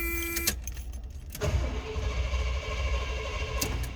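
A 1974 Cadillac Eldorado's engine cranks over and over without catching, close by and steady, after a sharp click.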